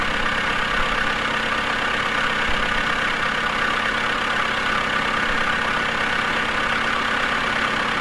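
A tractor engine in the video game Woodcutter Simulator 2013 idles in a steady, even drone with a low rumble, unchanging throughout and with no voices.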